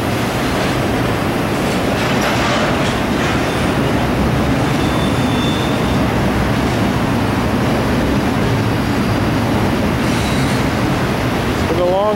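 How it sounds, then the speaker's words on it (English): Loud, continuous rumble and clatter of a long freight train pulled by two locomotives rolling past close by at Mountain Green, Utah, with steady wheel noise and faint squeals throughout. "It's been a long train for just those two engines up front."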